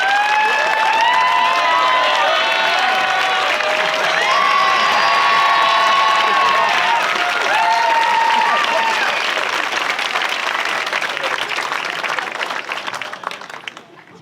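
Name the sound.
applause for the auxiliary bishop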